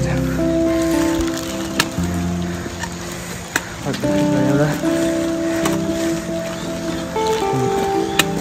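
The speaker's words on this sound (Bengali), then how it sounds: "মাঝে মাঝে এখানে বৃষ্টি পড়ছে," Rain patters steadily on a steep mountain trek toward Rudranath Temple, a continuous wash of drops mixed with footsteps, rustling and intermittent talking.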